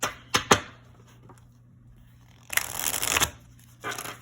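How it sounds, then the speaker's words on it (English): A tarot card deck is riffle shuffled: two quick snaps as the deck is split, then a crisp fluttering riffle lasting about a second, followed by the cards being squared. "let's see how this little baby shuffles. Let's do a riffle shuffle"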